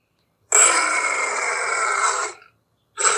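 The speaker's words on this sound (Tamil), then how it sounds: "சிங்கத்தினுடைய கர்ஜனை" A lion roars with one loud, rough, sustained roar lasting about two seconds, heard alone in silence. A second roar begins just after a short pause.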